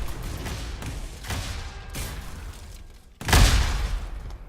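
Repeated booming blasts from the video game Diabotical, several spaced thuds followed by one louder, heavier explosion near the end, over a dense background rumble.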